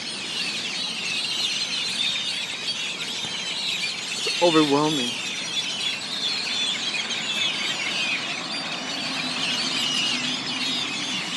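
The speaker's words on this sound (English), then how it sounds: "There's a shitload of birds" A large flock of birds calls around antennas, a continuous mass of shrill chirps and squeals spread across the distance, with one louder, closer call standing out briefly while a person talks over the chorus.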